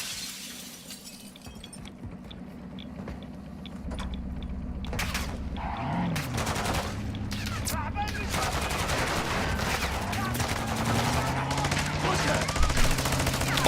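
Gunfire in the video game Call of Duty DMZ during a fight against a suspected cheater: sharp shots and bursts over a sustained loud in-game backdrop, with short cracking impacts.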